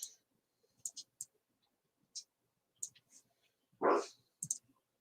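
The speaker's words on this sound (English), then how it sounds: "Sound like my dog's being crazy." A house dog, worked up, gives one fairly loud bark from a short distance away, with scattered light clicks and small handling noises around it in an otherwise quiet room.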